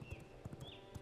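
A horse's hooves clip-clop in a video game, a quick, faint, even trot of soft thuds heard alone for a second.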